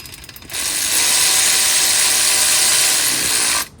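A ratchet tightens oil pan bolts on a Nissan 350Z, giving a loud, close, steady run of rapid clicking that lasts about three seconds with no talking.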